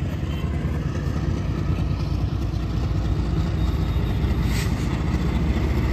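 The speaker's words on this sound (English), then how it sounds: "I don't know if you can hear me over this loud train here." A loud, steady rumble of a train rolling past close by, a continuous heavy drone with no voices.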